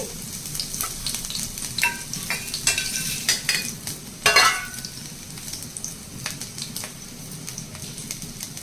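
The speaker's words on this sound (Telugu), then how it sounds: "ఆయిల్ వేడైంది కచ్చబచ్చగా దంచుకున్న వెల్లుల్లి రేఖలు ఒక ఐదారు తీసుకుని వేసుకోవాలి" Crushed garlic cloves fry in hot sesame oil in a pan, a steady close sizzle and crackle with light stirring and a brief louder burst midway, no talking.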